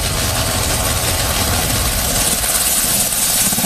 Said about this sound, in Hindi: ये Mi-17 मल्टीपर्पज हेलीकॉप्टर है